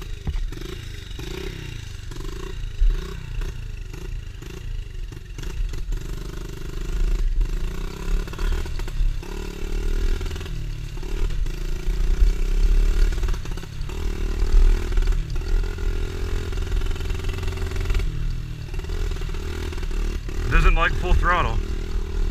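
A small engine on an off-road ride in the woods drones and revs hard, rising and falling in loud surges with clattering and scraping, while someone talks over it throughout.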